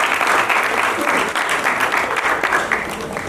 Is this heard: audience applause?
yes